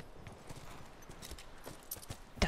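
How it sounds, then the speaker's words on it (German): Horse hooves clip-clop in The Last of Us, a quick irregular patter of soft thuds at moderate distance, ending with one sharper knock, with no voices. "Oh, das sind aber liebe Pferdchen."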